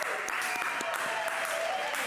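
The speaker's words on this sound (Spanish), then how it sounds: "Un aplauso para ella." A television studio audience breaks into loud, dense applause that runs steadily throughout, with a voice carrying faintly beneath the clapping.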